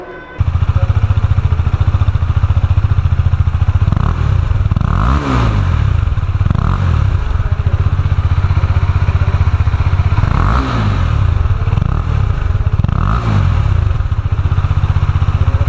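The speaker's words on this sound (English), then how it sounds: "And let's hear the exhaust note from the bike." A KTM Duke 250 motorcycle idles with a loud, close exhaust note, punctuated by several sharp throttle blips that rise and fall in pitch before settling back to a rumbling idle.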